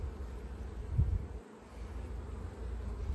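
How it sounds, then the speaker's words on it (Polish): Honey bees hum and buzz at the hive in a low, steady drone, faint and continuous with no voices, while the rapeseed is in bloom. "Widać, jak tu pszczółki pracują."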